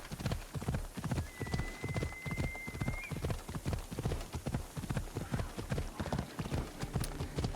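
Steady rhythmic clip-clop of a donkey's hooves trotting on ground in Assassin's Creed Odyssey, close and even throughout, with a brief whinny early on.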